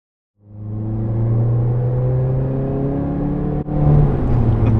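A Mercedes-AMG A45 engine at full throttle, a loud steady roar that rises in pitch through a gear, with a brief dip at the shift before pulling hard again.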